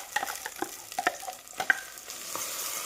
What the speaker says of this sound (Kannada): ಇವಾಗ ನೋಡಿ, ಅದು ಚೆನ್ನಾಗಿ ಮಿಕ್ಸ್ ಆಗಬೇಕು ತುಪ್ಪದ ಜೊತೆ.